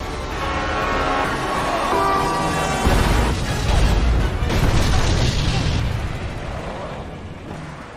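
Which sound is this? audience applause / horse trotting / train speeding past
train speeding past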